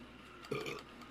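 A single short, low burp from a man on a podcast, fairly close but quiet against a steady room hum, with no talk over it.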